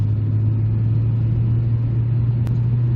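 1997 Volvo 940 estate with a 2.3 engine and automatic gearbox accelerating on a main road, heard from the cabin as a loud, constant low engine rumble with steady road noise throughout.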